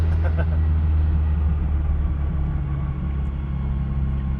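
A Mazda 323 fitted with a turbocharged 4AGE engine rumbles with a deep, steady, close-up drone, a constant low engine note with no clear revs or breaks.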